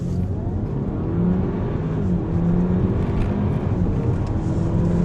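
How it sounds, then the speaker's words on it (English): A 2019 Audi A4 pulls away hard in launch control mode, its engine revving up in rising, sweeping tones with quick gear changes, loud and continuous from inside the car. "Okay, launch mode. Foot down accelerator and off."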